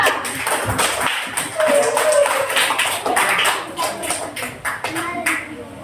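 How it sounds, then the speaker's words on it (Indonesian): Classroom applause for a student group, a dense patter of many hands clapping with scattered taps and thumps, moderately loud throughout. "Tepuk tangan untuk kelompok 2"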